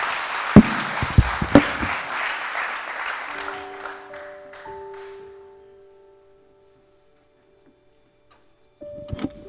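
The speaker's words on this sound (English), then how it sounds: "Give her a round of applause." An audience at a motivational speaking event breaks into applause that swells briefly and then fades over a few seconds into near silence, with a few faint tones lingering before sound returns at the end.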